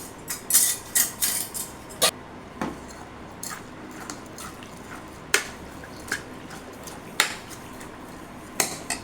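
A spoon clinks and scrapes against a metal pot while stirring chilli powder and asafoetida for botti kurma, a burst of rapid taps early on, then scattered single knocks with quiet pauses between.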